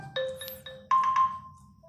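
A OnePlus 8 system ringtone preview plays alone: a short sequence of bright electronic tones, clean and fairly loud, ending in a sustained note that fades out.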